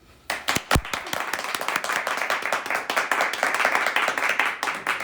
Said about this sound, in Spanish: Quiero darle un aplauso a Tati.